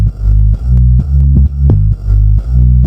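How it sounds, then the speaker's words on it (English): Deep AI-separated bass line pulled from a soulful house reference track, playing repeated low sustained notes in a steady pulse with slightly smeared, artifact-tinged attacks, heard alone without any voice. "there was also an AI bass that we extracted as well"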